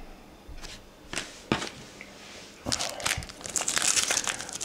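Sticky 2003 Pacific Vanguard hockey trading cards being peeled apart and handled, giving a series of close crinkling, crackling rustles that start sparse and grow into a busier stretch of crumpling, with no voices.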